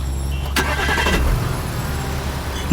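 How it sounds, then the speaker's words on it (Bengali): A car engine cranks and turns over as a sound effect in a Bengali horror audio drama, a sharp burst of starter noise settling into a steady low idle rumble. "গাড়ির ইঞ্জিনের ঝাঁকুনিতে"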